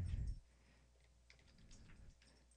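A few faint, scattered keystrokes from a computer keyboard sound close but quiet, following a brief low thump at the start.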